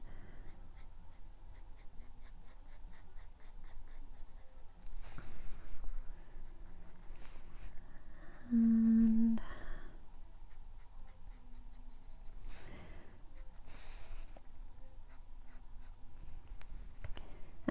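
A Luminance colored pencil rubs steadily on coloring book paper in short, close, scratchy strokes with brief pauses, and soft breathing in between.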